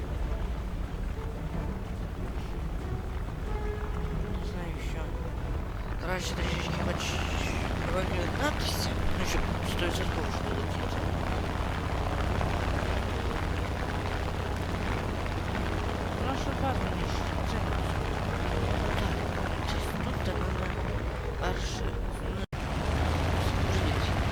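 A Japanese bomber aircraft in a video game drones with a steady low engine rumble and wind-like noise, while a person talks over it throughout.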